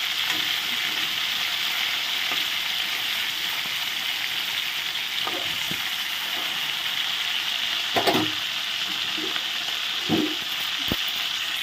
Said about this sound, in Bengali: পরের মাছগুলো ভাজা হয়ে গেছে, মাথাগুলো এখন উঠে নেব।